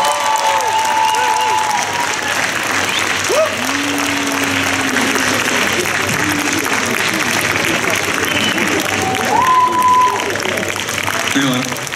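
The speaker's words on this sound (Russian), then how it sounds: "Ну, можно поддержать аплодисментами чуть поактивнее" Audience applause at a film premiere in Moscow, a broad steady wash of clapping holding for the whole stretch, with voices and scattered whistles mixed in.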